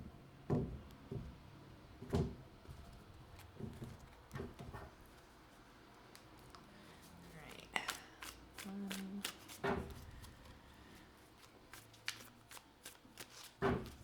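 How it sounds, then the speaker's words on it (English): Tarot cards being shuffled several times in quick riffling bursts, with soft handling and tapping sounds between them, close up in a quiet room. "let's give it one more shuffle here"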